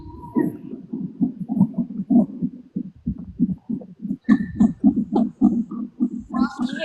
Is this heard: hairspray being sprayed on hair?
no